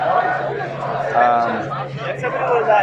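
A busy crowd fills Souk Waqif market in Doha ahead of a Morocco v Portugal and England v France match, with dense chatter, shouts and babble all around and people talking nearby.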